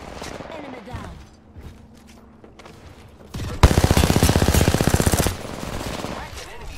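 Apex Legends gunfire: scattered shots and clatter at first, then a loud, rapid burst of automatic fire for about two seconds, followed by quieter lingering noise.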